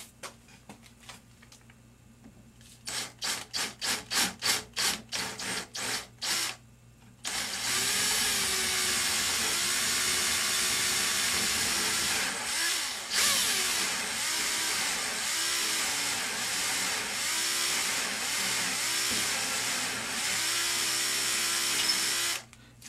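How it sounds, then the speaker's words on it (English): A power drill revs in a string of short bursts, then bores steadily into 3/4 inch wood with a loud, continuous grinding whine that fades as it stops. "Nice and easy as you're drilling it"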